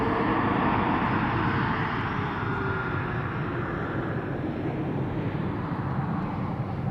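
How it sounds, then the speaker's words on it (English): An Embraer E195-E2 jet airliner at Amsterdam Schiphol Airport in wintry weather produces a steady, broad engine roar that stays loud and constant throughout, with no talk. "E2 Embraer 195"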